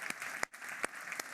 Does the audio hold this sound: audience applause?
yes